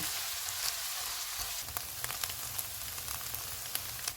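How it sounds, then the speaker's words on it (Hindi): Chopped onions fry golden in hot oil with a dense, even sizzle and scattered sharp crackles and pops, close up and continuous. "चॉप किए हुए 2 प्याज डालेंगे। इनको गोल्डन फ्राई करेंगे।"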